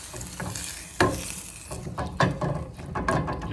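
Vegetables being stirred in a pan on the stove, with a soft sizzle underneath and scattered scraping clinks of the utensil against the pan, close and fairly quiet.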